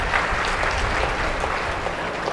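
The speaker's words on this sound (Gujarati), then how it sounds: "એક વખત તાળીઓના ગડગડાટથી વધાવશું." An audience at a Gujarati folk literature event welcomes guests with loud, thick applause that stays steady and close for a couple of seconds without any speech.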